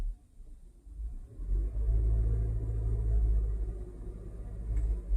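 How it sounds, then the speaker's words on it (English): A parked Honda Civic with a vibration fault is revved in park, a low, rumbling engine note that swells after a second and holds, close and moderately loud, with no talking. "if I just rev it"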